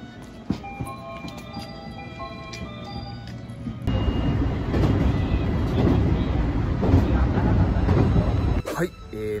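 Rumbling of a train fills the clip, with broadband rail noise growing louder midway, a brief pause near the end, and talk in the background early on.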